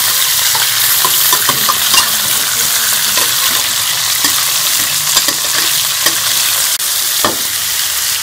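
Chicken pieces sizzle loudly in hot ghee in a karahi while a utensil stirs and scrapes them, with steady frying hiss and scattered clinks and knocks, close up and without talk.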